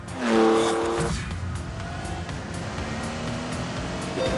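The 48-valve 5.2-litre V12 of a Lamborghini Countach in The Grand Tour video game revs loudly up close at first, then settles into a steady, raspy drone.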